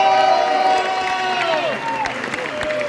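Concert crowd at a 2024 Budapest tribute show cheering and applauding for the drummer, a loud sustained mass of whoops and shouting with clapping underneath, close and continuous throughout.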